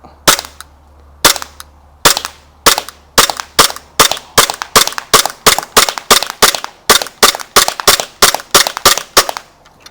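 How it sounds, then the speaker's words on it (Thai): A BB gun replica of a Glock 17 Gen 5 fires about twenty loud, sharp cracks in fast, fairly regular succession, each one near and distinct against a quiet background, with no speech. "ยิงรัวๆเลยนะครับ"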